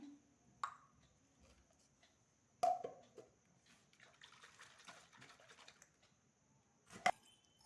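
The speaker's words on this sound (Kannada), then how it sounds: "ಪಾನಿಗೆ 2 ಗ್ಲಾಸ್ ನೀರು ಹಾಕೋತಾ ಇದ್ದೀನಿ." Water is poured from a glass into a bowl for pani puri, a soft, faint trickle that swells in the middle, with a few sharp clinks and knocks of the glass around it.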